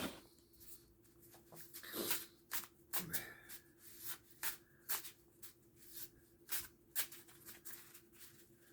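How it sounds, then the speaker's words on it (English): A tarot deck riffled and shuffled in repeated quick bursts, crisp and close, with short pauses between each pass. "All you do is shuffle the deck."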